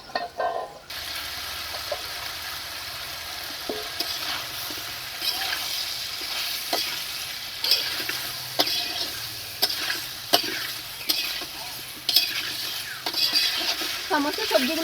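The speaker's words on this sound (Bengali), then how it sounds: "সবজিগুলো প্রায় ভাজা হয়ে গেছে, এখন সজনে ডাঁটাগুলো দিয়ে দেবো।" Mixed winter vegetables fry in a pan for a labra dish, giving a steady sizzle broken by repeated scraping and clinking as a utensil stirs them.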